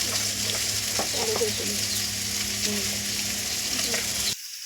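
Onion and tomato frying in oil for a Bengali fish curry, a loud steady sizzle with occasional stirring scrapes that cuts off abruptly near the end.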